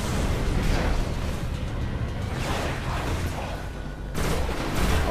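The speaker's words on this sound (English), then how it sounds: "here comes my pulse grenade" Pulse grenade detonating in the video game Destiny, a rumbling burst of crackling energy pulses over continuous battle noise, moderately loud with a renewed surge near the end.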